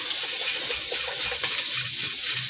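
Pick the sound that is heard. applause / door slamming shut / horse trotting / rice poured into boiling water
rice poured into boiling water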